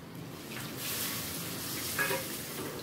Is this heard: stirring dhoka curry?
yes